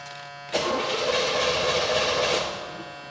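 A 1984 Monte Carlo SS that sat for 22 years fires up after a few carburetor pumps, the engine catching suddenly and running loud and steady close by before settling slightly at the end.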